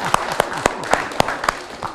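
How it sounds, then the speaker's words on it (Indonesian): Audience clapping at a public event in Indonesia comes as brief, fairly regular claps, about four per second, loud and close. "Dan tepuk tangan dulu sekali lagi."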